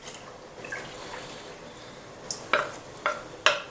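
Paste made from unmodified potato starch is stirred in a container, a soft wet swishing that ends in three distinct knocking strokes about half a second apart, close by, with no voices.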